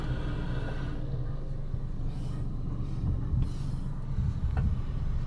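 Air blows hard from the dashboard vents of a Toyota Vios after its air conditioning has been cleaned and recharged with refrigerant, a steady, loud rushing hiss with faint cabin knocks, close to the microphone.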